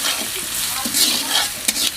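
Chopped garlic sizzles and crackles in hot mustard oil in a kadai, a steady close frying hiss with a few sharper spits, no voices.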